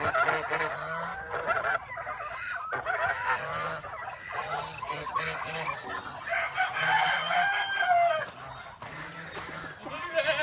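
A rooster crows repeatedly, close by, amid clucking and other farmyard fowl calls against steady outdoor background noise.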